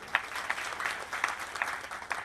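A bhajan audience claps in a steady rhythmic beat, each clap distinct and moderately loud at a short distance, with no voices over it.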